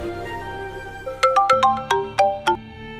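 A mobile phone rings with a quick run of bright, chiming electronic notes, about eight plinking tones over a low hum, clear and close with no talking.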